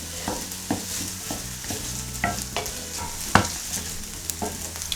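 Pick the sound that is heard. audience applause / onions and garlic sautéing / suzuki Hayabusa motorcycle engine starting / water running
onions and garlic sautéing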